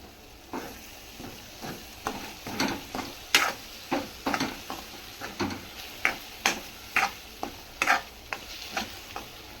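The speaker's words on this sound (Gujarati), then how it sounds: "હવે આ બધાને સરખી રીતના મિક્સ કરી દેશું" A spoon mixes cheese masala sandwich filling with mayonnaise in a bowl, producing a regular series of close, wet scraping and tapping strokes about twice per second, with no talking.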